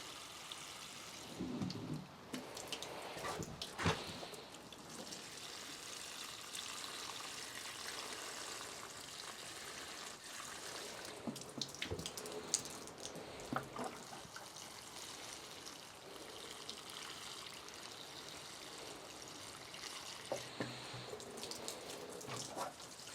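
Garden plants get a long watering near a trellis, a steady soft trickling and spraying of water with scattered drips and small splashes, fairly faint and without talk.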